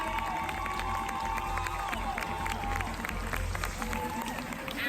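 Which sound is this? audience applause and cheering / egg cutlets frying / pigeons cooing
audience applause and cheering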